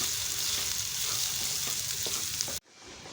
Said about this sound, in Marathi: नंतर त्यामध्ये बारीक केलेले शेंगदाणे टाकून घेतले. नंतर पुन्हा एकदा फिरवून घेतले.